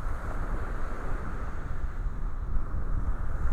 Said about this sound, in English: it is quite breezy here on Vanderbilt Beach up in North Naples